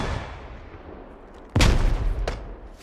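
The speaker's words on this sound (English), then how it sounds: "I'm gonna huck a nade over there" A grenade in the Squad military shooter bursts with a loud, close boom partway through, followed by a rumbling tail and a second sharper crack over a low ambient bed.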